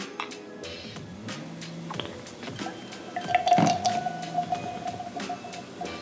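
Half an ounce of heavy whipping cream poured into a Christmas cocktail: a soft, low liquid pour with faint drips, quiet and close, building briefly mid-way and then trailing off.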